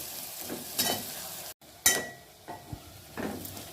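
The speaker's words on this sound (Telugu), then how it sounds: "ఇప్పుడు పోపు గోలిపోయింది కదండి," Onions and green chillies sizzle as a tempering fries with turmeric in a pan, with bursts of spoon stirring and clinks against the metal coming in uneven waves.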